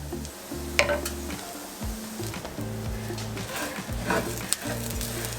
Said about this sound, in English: I'm just going to toast this up